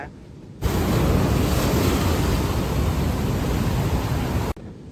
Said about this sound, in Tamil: மழை ஜாஸ்தியானனால அலை ரொம்ப ஜாஸ்தியா இருக்கு